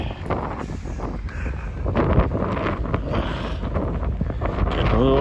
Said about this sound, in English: Getting a little windy.